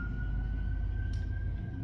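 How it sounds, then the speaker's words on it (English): Sirens of emergency vehicles passing a house in a city, a steady wailing tone over loud traffic rumble, with a brief burst of noise partway through. "there are sirens going by my house and a loud truck, as per usual."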